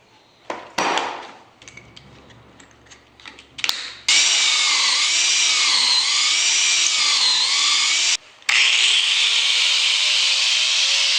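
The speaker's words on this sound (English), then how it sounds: "I think I'm going to drill a depth hole because I want" A power drill bores a depth hole into wood while a lotus leaf is being carved, a loud sustained whine that runs steadily for several seconds, briefly stops, then resumes, after a few quieter handling knocks at the start.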